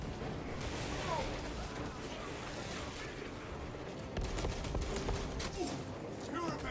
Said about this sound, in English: Purification by frag grenade.